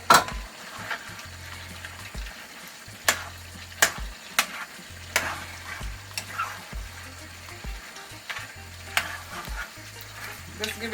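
A large onion sizzles as it fries in a pot for beef curry, a steady hiss broken by repeated sharp clinks and scrapes of a stirring spoon against the metal, close and fairly quiet.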